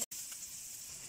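Onion sizzling in hot cooking oil for fried rice, a steady close hiss filling the moment after a brief dropout at the start, without talk.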